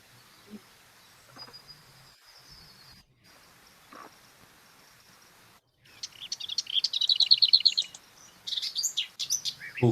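A warbler gives a rattling call, a rapid run of dry notes starting around six seconds and repeating near the end, with fainter chirps and quiet outdoor ambience before it.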